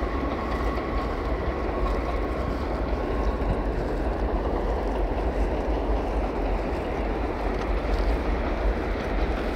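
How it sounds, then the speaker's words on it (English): A train rumbling past near Poe Park in the Bronx on a snowy Saturday afternoon, a steady broad roar with a faint tonal whine, fairly loud and constant with no speech. "with the train going by"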